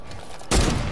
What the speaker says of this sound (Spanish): Bro, disparos allá.